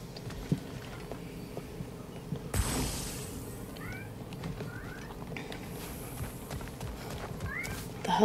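A cat in the video game God of War: Ragnarok meows softly several times at intervals, with short upward-bending calls over low game ambience, a whooshing burst and faint footstep-like thuds.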